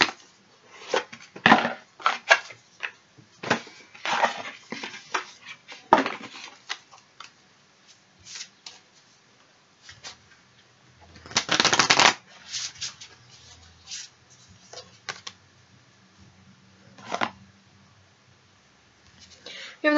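A tarot deck is handled and shuffled up close, with repeated riffling bursts, soft slaps and scattered card rustles, including one long dense shuffle midway, while a person talks intermittently.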